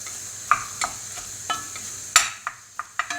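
Minced meat for lasagne being stirred and browned in a pan, with a steady sizzle under a series of scraping strokes about every half second, close and fairly loud.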